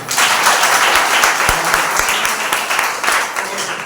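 A Sunday service congregation claps loudly for God and the worship team, a dense, energetic roar of many hands with a few sharper individual claps standing out close by.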